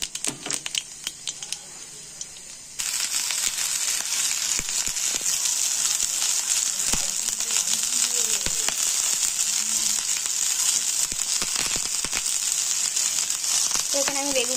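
Eggplant hits hot mustard oil tempered with black cumin seeds. After a few quieter seconds, a loud, continuous close sizzle and crackle erupts and keeps going with scattered pops.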